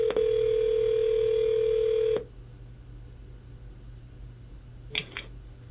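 A desk telephone dials out, a loud steady dial tone running for about two seconds before cutting off, followed later by a single brief keypad tone in a quiet room.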